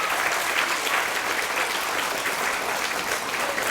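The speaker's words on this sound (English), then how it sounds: "Let's give your parents a round of applause." Audience at a 2017 D.A.R.E. graduation ceremony at Bauer Elementary in Miamisburg applauding the parents, a dense, even wash of many hands clapping together at steady volume, filling the room without talk.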